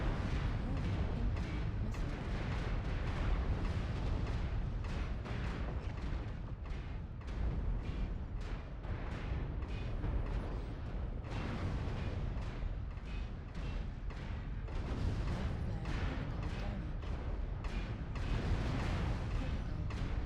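Dense run of booming explosions and missile impacts from the MechWarrior Online game, continuous and loud over the whole stretch, with rapid repeated blasts under a steady rumble.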